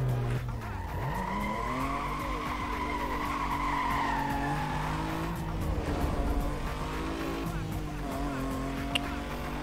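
Racing car engines from NFS Most Wanted roar and shift pitch in rising and falling sweeps, with tyre squeal and skidding, loud and continuous throughout.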